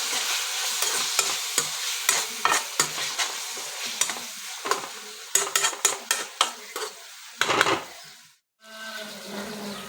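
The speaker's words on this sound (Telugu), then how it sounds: "బాగా కలుపుకోవాలి." A spoon stirs chicken curry with chopped tomatoes, mint and salt in a pan, making repeated scraping clinks against the metal over a soft sizzle, close and irregular, with a brief pause near the end before the frying resumes.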